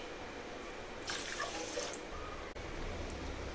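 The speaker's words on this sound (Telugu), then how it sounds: "ఒక గ్లాస్ రైస్కి ఒకటిన్నర గ్లాస్ వాటర్ని వేసుకోవాలి" Water is poured into a pot of rinsed rice for raw mango pulihora, a faint splashing stream of a second or so against a steady background hiss.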